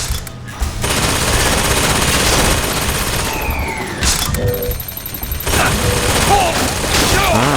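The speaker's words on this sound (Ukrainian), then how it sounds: "Не розумію, де там з'явились кулемети." Rapid bursts of machine gun fire in the video game BioShock Infinite rattle almost continuously, with booms and mechanical clatter mixed in, loud and close.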